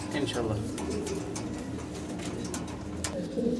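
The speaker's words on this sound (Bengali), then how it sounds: "এটা হাঙ্গারিয়ান হাউস পিজন বিগ সাইজের" Big Hungarian house pigeons coo nearby in low, throaty rolling calls, repeated a few times under someone talking over a busy background.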